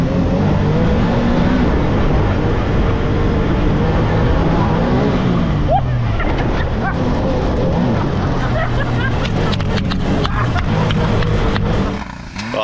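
A 2024 Can-Am Maverick R side-by-side with a two-cylinder engine runs in Sport Plus mode. A loud, gruff engine roar dominates at first, then gives way to clattering, crackling bursts and rough rumbling before cutting off sharply at the end.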